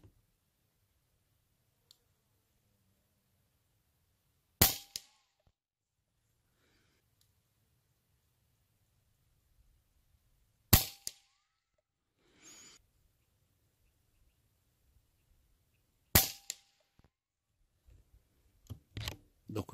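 An air rifle fires JSB 18-grain pellets. Three sharp, isolated shots ring out several seconds apart in an otherwise quiet space, with faint clicks and a few small handling noises between them.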